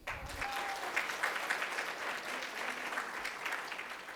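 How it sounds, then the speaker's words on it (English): Conference audience at a young women's career event giving a round of applause, a continuous, even patter of many people clapping at a fairly close, moderate level with no speech over it. "Can we get another round of applause?"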